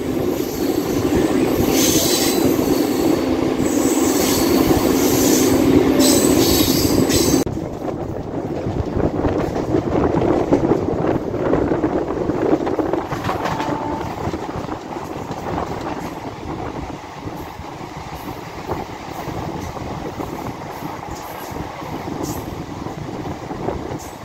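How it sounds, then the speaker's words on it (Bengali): A 36835 Howrah–Barddhaman Chord Line super local train runs on board under a speed restriction, with a loud, steady wheel-and-carriage rumble and wind noise that eases after the first several seconds. "আমাদের ট্রেন এখন এসে পৌঁছালো হচ্ছে বেলমুড়িতে।"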